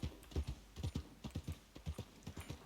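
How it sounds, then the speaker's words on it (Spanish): Horse hooves clip-clop in Red Dead Redemption 2, a steady run of close, distinct strikes in an even walking rhythm with no voices over them. "Este es el caballo que quiero."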